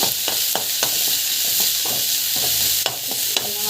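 Tomatoes sauté in a hot pan with a continuous close sizzle, punctuated by a regular run of spatula knocks and scrapes as they are stirred, with no talking.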